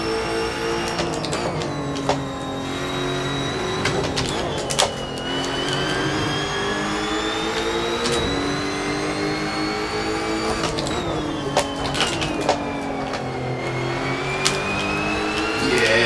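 A race car engine revs hard and continuously in Assetto Corsa, the pitch climbing and dropping with sharp gear shifts and throttle blips, loud and close throughout with no talking.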